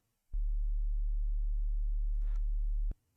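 A synth oscillator's pure sine wave holds one steady low bass tone for about two and a half seconds, starting and stopping abruptly with small clicks, loud and alone.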